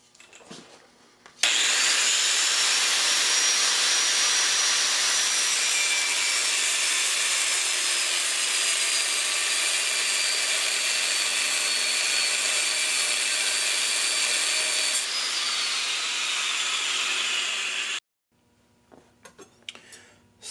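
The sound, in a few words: grinding a guard shelf into a forged Scottish dirk blade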